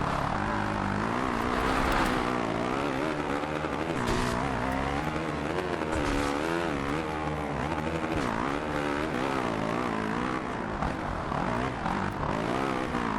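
Honda motocross bike engine in the MXGP 2 video game, a loud continuous revving whine that rises and falls through gear changes, filling the whole stretch without speech.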